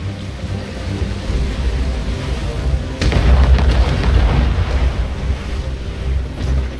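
Ship cannon fire in the naval combat of Assassin's Creed Rogue: a heavy booming volley hits about midway and rumbles on over a constant roar of sea waves and wind.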